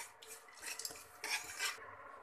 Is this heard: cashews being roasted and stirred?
yes